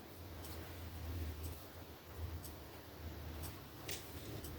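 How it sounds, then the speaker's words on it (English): Small swan-shaped scissors snip through fabric scraps during crafting, giving a handful of faint, crisp cuts spaced roughly a second apart over a quiet background. "let's get the little swan scissors"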